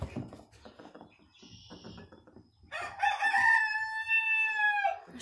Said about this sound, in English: See what these chickens are doing.